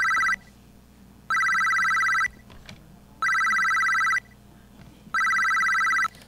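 SunVox synthesizer arpeggio effect making a phone-like ringing tone: three loud, bright warbling bursts, each about a second long, separated by roughly a second of near silence, like a cell phone going off.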